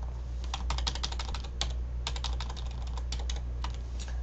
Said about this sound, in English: I'm just using my arrow keys here